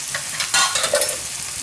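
Turmeric and chili powder roasting and being stirred in a hot pan for chana masala, a soft sizzle under scraping spoon strokes, close and fairly loud, with a few sharper stirring bursts.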